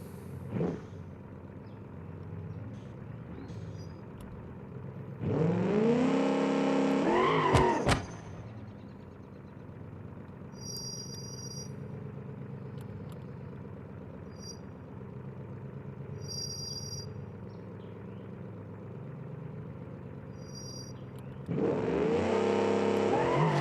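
A turbocharged drag car in the driving game BeamNG.Drive revs hard and launches down the strip, with loud surging engine roars, rising gear pulls and tire squeal in bursts separated by a quieter steady idle drone.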